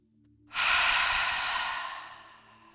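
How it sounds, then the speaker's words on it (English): A deep meditative breath comes in through the nose and flows out through the mouth as a long, close, airy exhale that starts abruptly and slowly fades, heard alone without speech. "That meditative breath comes in through your nose, pause, and then exhale through your mouth."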